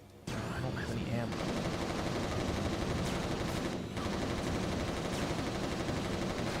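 Rapid, sustained gunfire from a weak gun in the shooter game Resistance Retribution crackles loudly and almost continuously, with brief gaps between bursts and a voice speaking faintly beneath.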